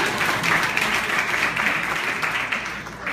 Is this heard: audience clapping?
yes